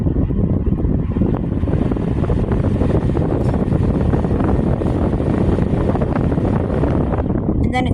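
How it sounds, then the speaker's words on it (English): A Holmes Blizzard air circulator fan runs in breeze mode, cycling through its speeds, giving a steady, close, loud whooshing rush of air that stays continuous throughout. "This thing also has breeze mode, so I'm gonna put it on mode 3. And it's kind of cycling through all the speeds."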